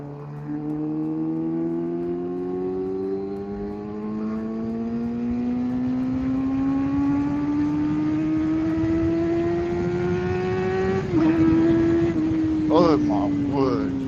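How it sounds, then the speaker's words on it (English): A 2012 Suzuki GSX-R750 sport bike engine revs loudly and climbs steadily in pitch, with a brief dip near the end before pulling again; the rider's voice is heard at points under the engine. "It's so loud. This bike is so loud."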